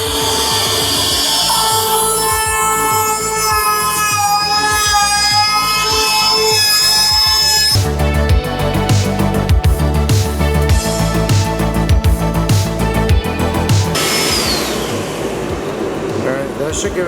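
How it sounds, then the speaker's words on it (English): A handheld trim router rounds over the edges of wooden bed parts, a loud continuous high-pitched whine that turns rougher and grittier as the bit cuts into the wood, steady for the whole stretch. "here's Jeff with the trim router, rounding all of the edges"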